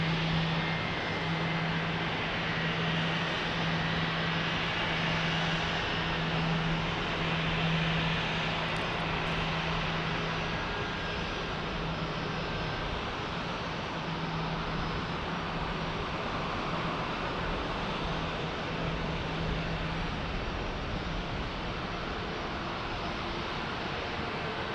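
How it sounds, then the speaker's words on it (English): An American Airlines Airbus A321 jet departs at San Diego, giving a continuous broad engine roar with a steady low hum running beneath it, holding loud and even throughout, with no voices. "our American Airlines getting ready to depart here"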